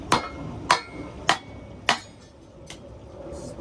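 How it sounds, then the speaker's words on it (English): A small hammer strikes the back of a blade set in lumber to split wood for a fire pit, four sharp metallic knocks at an even pace, then a fainter fifth tap, close and clear. "Get a little hammer."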